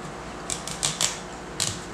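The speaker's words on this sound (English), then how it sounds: "I don't need this whole butternut squash. So I'm going to cut a piece of it off." A knife cuts a piece off a butternut squash: a series of short, crisp crunching clicks up close over low background noise, ending in a sharper snap.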